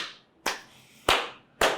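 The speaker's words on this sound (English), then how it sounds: "I give you a clap." Three sharp, loud hand claps ring out one at a time at a slow, even pace, each a crisp smack with a short fading tail and quiet gaps between.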